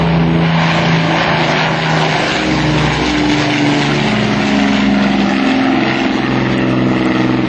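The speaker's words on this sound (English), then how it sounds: "Low and to your right, the mighty Lancaster bomber." Avro Lancaster bomber with Rolls-Royce Merlin engines flying low past the crowd at an air show, a loud, steady multi-engine propeller drone with shifting tones as it passes.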